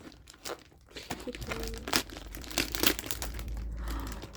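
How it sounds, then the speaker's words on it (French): A Vinted parcel being unwrapped by hand, its plastic and paper packaging crinkling, crumpling and tearing in close, loud, irregular bursts, with no speech. "c'est la première fois que je déballe un colis Vinted"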